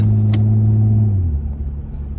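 A Toyota JZX100 car engine hums loudly from inside while driving, its steady tone dropping in pitch about halfway through as the car eases off, then settling into a lower rumble.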